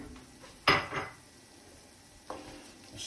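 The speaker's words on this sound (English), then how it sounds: "Stir that in." Garlic is stirred into Sunday gravy in a pot: a sharp metal spoon clank against the pot, a scraping stir, and a lighter knock later, over a faint background sizzle.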